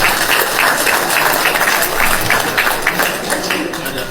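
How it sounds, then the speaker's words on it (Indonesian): A large audience breaks into loud, dense applause, a close, continuous roar of many clapping hands that holds steady for a few seconds. "Beri tepuk tangan buat semua."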